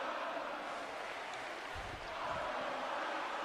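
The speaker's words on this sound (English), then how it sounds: "listen to this crowd" A wrestling arena crowd roars continuously, a dense, loud, far-off wash of cheering that stays steady throughout, with low thuds in the middle.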